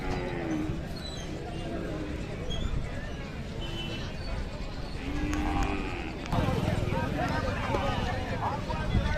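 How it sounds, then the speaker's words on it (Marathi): Khillar cattle at a busy livestock market in Sangola, Solapur district, low moos rising over a dense crowd murmur and nearby voices, with the din growing louder in the final seconds. "कालवडी मोठ्या प्रमाणात आजच्या बाजारात आले."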